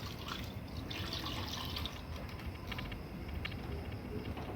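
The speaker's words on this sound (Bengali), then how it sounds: "পাতিলে দুধ দিয়ে দিলাম" Milk poured into a cooking pot, a continuous soft splashing, trickling stream that runs steadily throughout at low volume, with no voices.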